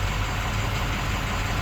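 A Navistar VT365 diesel engine idles steadily with a low, even rumble, its speed beginning to rise under the steady drone, close and alone with no talk.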